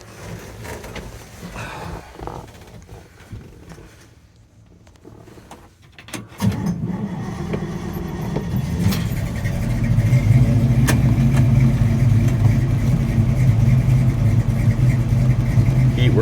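A new 350 crate V8 in a restored 1966 Chevrolet C10 short-bed pickup with a manual transmission cranks and fires, then settles into a loud, steady, rumbling idle close by after a few quieter seconds.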